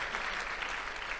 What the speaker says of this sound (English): we give a round of applause for all these amazing demos